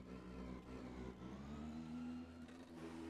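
An Indy NXT race car's engine refiring after a crash into the wall at Atlanta in iRacing: a steady mid-pitched engine drone with rising harmonic whine, held continuously at moderate level throughout.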